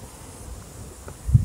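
Honey bees buzz in a low, steady hum during a sugar shake mite count, with a louder, closer burst of buzzing at the end.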